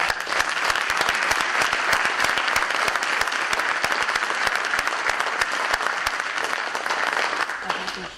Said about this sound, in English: If we could please recognize our presenters tonight with a round of applause.